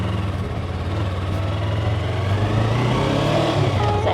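A car engine pulling steadily in first gear, a continuous close drone that rises gently in pitch and loudness as it accelerates, with no talk.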